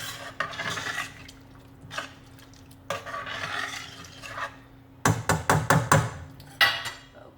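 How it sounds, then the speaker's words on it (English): A spoon stirs cabbage soup in a pot, giving soft scraping at first, then a quick run of six or so loud clanks and scrapes against the pot near the end. "Give it a stir."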